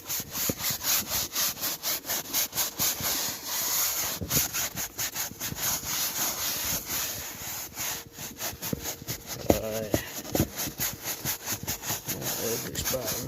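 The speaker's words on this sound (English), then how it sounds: "scrub the bejesus out of it" A brush scrubs car seat upholstery worked up with dish soap, a close, loud, rhythmic back-and-forth scratching that continues steadily, with brief speech partway through.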